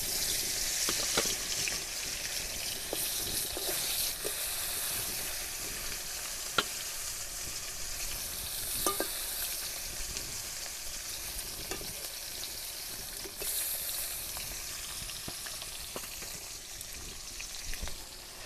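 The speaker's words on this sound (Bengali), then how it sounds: "মাছগুলো এবার তেলের মধ্যে দিয়ে দেব।" Pieces of shol fish (snakehead) rubbed with salt and turmeric fry in hot white oil in a wok, giving a steady loud sizzle and crackle throughout with occasional sharper pops and spatters, and no voices.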